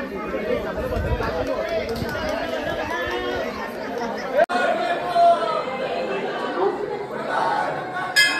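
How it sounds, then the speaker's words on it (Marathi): A dense crowd chatters at Jejuri temple, many overlapping voices forming a constant close murmur, with one sharp knock midway. "गर्दी बघा"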